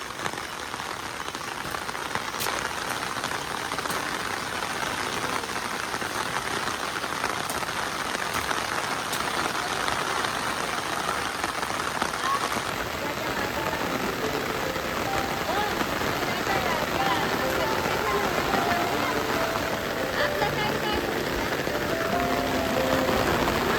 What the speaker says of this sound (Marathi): पाऊस खूप जास्त आलाय